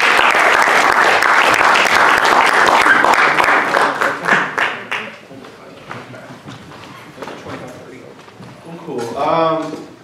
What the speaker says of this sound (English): Let's have a big round of applause for Kyle Adams